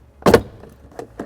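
A plastic storage tray pulled free from the interior of a 2017 Lexus RX350, a sharp close plastic snap followed by two softer clicks.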